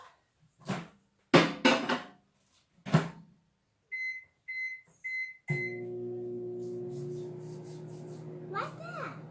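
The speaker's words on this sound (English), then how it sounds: "So we're gonna stick it in the microwave for 1 minute and 30" Someone talks briefly, then a microwave's keypad beeps several times as it is set for 1 minute 30 seconds to cook a mug cake, and the oven starts up with a steady low hum that continues to the end.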